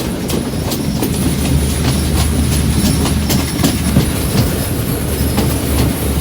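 A passenger train on the Colombo to Badulla line rolls steadily along, with a constant low rumble, rhythmic wheel clatter on the rails and a faint squeal of wheels, heard close from inside the carriage.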